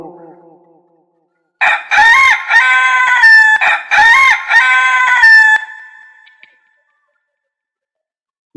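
A rooster crows loudly and close by, giving two long, ringing cock-a-doodle-doo calls back to back, then silence; a faint voice is heard briefly just before.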